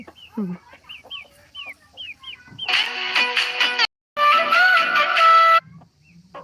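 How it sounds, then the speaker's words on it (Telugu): A chicken gives a series of short, sharp clucks, then breaks into two long, loud squawking bursts right up close. "మా డైనోసార్ మా డాడీకి నచ్చిన కోడి"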